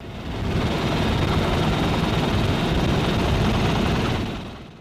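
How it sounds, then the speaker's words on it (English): A Bell UH-1 Iroquois Huey helicopter gives a loud, dense, steady roar of rotor and engine that swells in, holds for several seconds and then fades. "The Huey's distinctive design and sound have made it a symbol"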